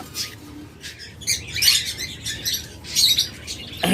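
A pair of grey cockatiels in a bird shop give bursts of close, bright chirps and squawky calls at an irregular pace, over a low background hum.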